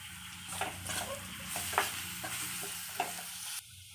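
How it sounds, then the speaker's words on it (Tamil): Raw banana pieces with garlic stirred in a frying pan, a steady sizzle broken by scraping spatula strokes, with a sharper clack near the end. "வாழைக்காய் மேலே இப்போ நல்லா கிண்டி விட்டுக்கலாம்"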